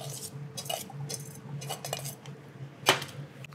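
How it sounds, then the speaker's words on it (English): A knife taps lightly against a cutting board as salted capers are chopped, giving soft irregular strikes followed by one sharper metallic clink near the end, quiet and close. "We're just gonna chop them through very slightly."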